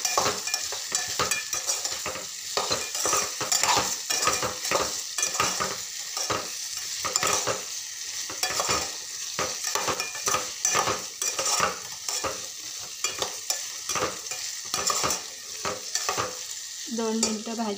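Lady finger (bhindi) sabji cooks in a pan with a constant sizzle. A spoon stirs and scrapes against the pan in quick repeated strokes that keep going throughout, close up, with no voices.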